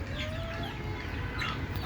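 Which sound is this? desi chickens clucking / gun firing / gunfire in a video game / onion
desi chickens clucking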